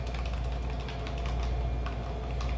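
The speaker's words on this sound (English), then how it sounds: "we're going to beat the eggs pretty much with a fork" Quick, repetitive clicking taps of a fork beating eggs in a bowl, close and continuous over a low background hum.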